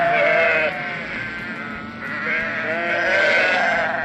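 Sheep bleat loudly and alone in repeated wavering cries, one long call followed by a second after a brief pause.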